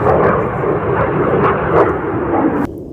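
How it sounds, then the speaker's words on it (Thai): A loud, steady roar of a military fighter jet passing overhead in a German forest, broad and rumbling, cutting off abruptly near the end. "เก็บเห็ดไปแข่งกับเสียง เครื่องบิน"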